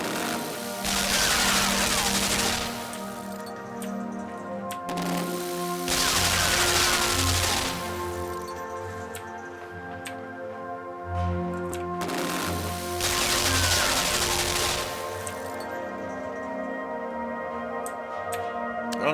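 A machine gun in the Limbo video game fires three long rattling bursts several seconds apart, with low droning ambience in the gaps.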